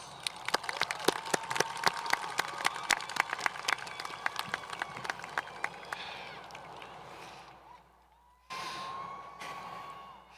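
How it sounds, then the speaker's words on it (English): Graduating high school Class of 2021 applauding at their graduation ceremony, scattered sharp claps with cheers rising to a dense crowd roar, a brief lull, then renewed noise. "please give yourself a well-deserved round of applause"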